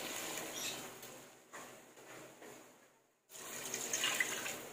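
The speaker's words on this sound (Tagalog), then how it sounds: "And then, lagyan po natin ng tubig." Water pours steadily from a glass into a pot for pork and jackfruit stew, a hissing splashy stream that stops briefly and then resumes, close and fairly loud.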